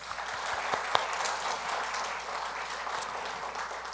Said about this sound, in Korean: 박수로 영광 돌리겠습니다.